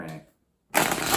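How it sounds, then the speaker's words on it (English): A worn, classic deck of playing cards gets a quick shuffle before a tarot reading. A short, close, papery burst follows a brief voice and a moment of silence. "I want to give them another quick shuffle"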